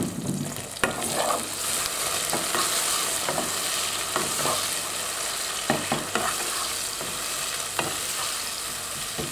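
Vegetables and onions for Tunisian winter shakshuka fry in a pan with a continuous close sizzle, broken by repeated scrapes and knocks of stirring, with no voices.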